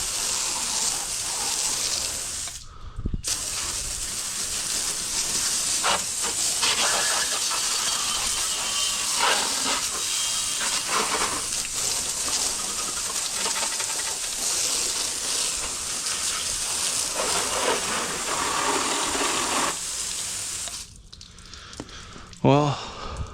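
Chicken Shine cleaner sprays steadily onto an RZR side-by-side, a continuous loud hissing wash that runs almost unbroken, with a brief pause early and a few clunks as it stops.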